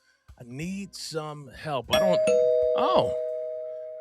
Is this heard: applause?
no